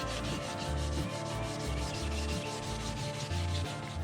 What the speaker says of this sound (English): I'm going to go over it now with some 1000 grit sandpaper